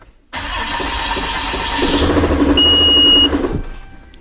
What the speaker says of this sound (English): let's see if this will start up